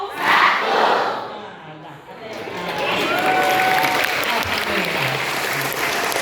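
Students at a high school Maulid Nabi gathering in Padang clap together in a concentration clapping game, loud and dense crowd clapping with crowd noise and a voice speaking over it.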